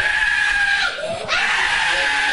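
Injured girl burned by a bomb blast screams in anguish, a loud, sustained high-pitched wail with a brief break for breath before it resumes.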